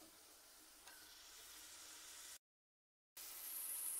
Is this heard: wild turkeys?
no